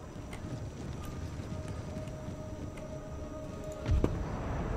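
Horse guards cavalry hooves in Empire: Total War, a faint soft clip-clop patter beneath a steady low game ambience, with a brief thump near the end.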